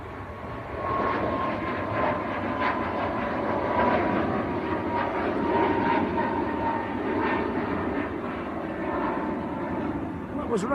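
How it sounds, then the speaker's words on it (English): A Ryanair airliner on its takeoff roll at Manchester Airport gives a steady, fairly distant jet roar that holds for several seconds, with faint voices nearby. "another Ryanair on the roll"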